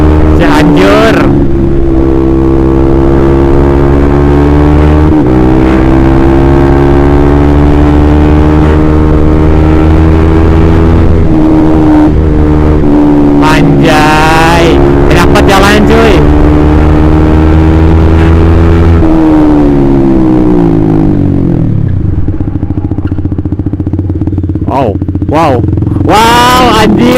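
A motorcycle on a solo tour toward Cianjur roars loudly up close, its engine note climbing and falling through gear changes and throttle blips over strong rumble, with occasional voices faintly under it.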